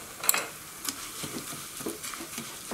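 Hot oil stirred through a bowl of chili flakes gives a soft, steady sizzle and crackle, with light scraping and tapping of a utensil against the bowl and no voices.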